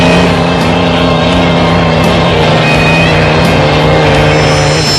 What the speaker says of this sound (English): if you want to hear that sound again, those great piston engines, those boats are going out on the water